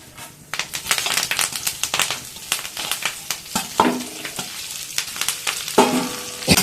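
Curry leaves crackling and frying in hot oil, with a steady sizzle, spatula scrapes and stirring clinks against the pan, close up with no talk.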